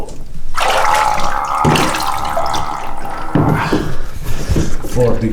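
A person's body drops into 4-degree cold water during a Wim Hof-style cold plunge. A loud splash is followed by steady sloshing and churning water that lasts several seconds.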